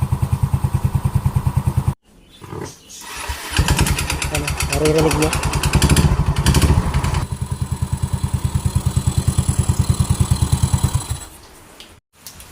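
A Yamaha Mio M3 motor scooter engine idles close by with a steady, rapid putter, cutting out briefly and restarting, while someone speaks over it.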